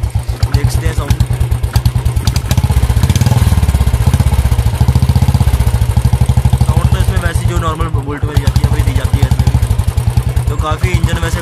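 A Royal Enfield Bullet 350X BS6 motorcycle idles after a kick start, its single-cylinder engine thumping in a steady, rapid, loud beat close by, with someone talking over it.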